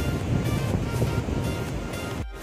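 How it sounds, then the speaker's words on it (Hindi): Floodwater rushes loudly through a village during heavy rain, a dense, continuous roar of moving water and rain close to the microphone, cut off abruptly near the end. "और इतना बारिश हो रही है, इतना पानी है कि अगर मैं इस पर गया तो मैं डूब जाऊँगा"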